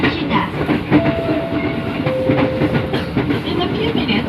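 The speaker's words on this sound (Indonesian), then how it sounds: "Sesaat lagi kereta Anda akan tiba di stasiun Pondok Cina." A KRL Bogor Line commuter train pulls into Pondok Cina station, heard from inside with a loud, steady rumble and rhythmic clatter of wheels on rails, and a faint tonal whine running through the middle.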